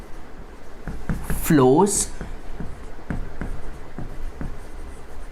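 Marker or chalk scratching across a board during a Class 12 physics lecture on self-inductance, in short rhythmic strokes under a teacher's speech.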